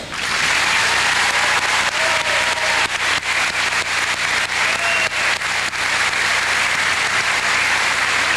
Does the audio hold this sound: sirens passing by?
no